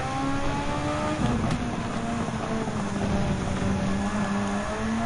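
A Super Formula race car in Gran Turismo 7 screams at high revs, its engine tone holding loud and near with gear-change dips in pitch, no speech.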